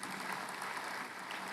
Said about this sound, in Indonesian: Beri tepuk tangan buat Tuhan, saudara.